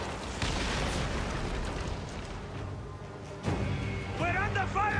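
Cannon fire hits a ship in Assassin's Creed Origins, with dense booming blasts and rumbling debris filling the scene. A fresh loud impact lands midway, and voices shout over the battle din.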